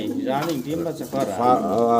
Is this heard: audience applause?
no